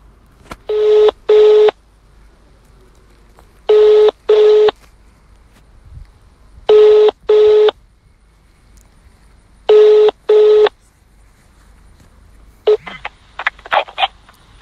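Telephone dialing tones played through a phone's speakerphone: four loud bursts, each a pair of quick beeps, spaced about three seconds apart, followed by a scatter of shorter clicks and tones near the end.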